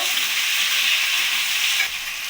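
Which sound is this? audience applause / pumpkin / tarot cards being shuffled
pumpkin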